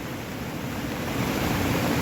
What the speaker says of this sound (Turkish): Yağmur devam ediyor.